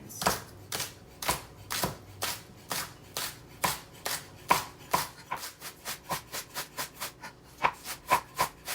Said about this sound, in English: I'm just gonna cut the green onions first, and you need loads of green onions.